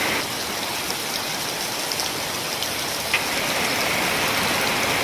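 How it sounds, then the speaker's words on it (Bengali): Heavy rain pours down in a dense, steady hiss that stays loud and unbroken throughout, with no voices. "এত বৃষ্টি আমি আর কখনো দেখিনি। এবার প্রথম এত বৃষ্টি হলো।"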